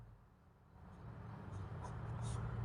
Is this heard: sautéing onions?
no